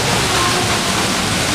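A waterfall at Disneyland pours nearby as a loud, steady, broadband rush with no breaks.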